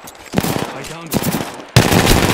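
Rapid automatic gunfire in the video game Apex Legends comes in close, choppy bursts, then swells into a louder, sustained volley near the end.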